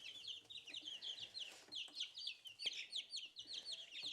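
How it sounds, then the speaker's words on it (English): Silkie and Polish chicken chicks cheep and cluck continuously in high, rapid, overlapping peeps, close and soft indoors, with no talking. "Here we have our silkies and some of our Polish chicks here."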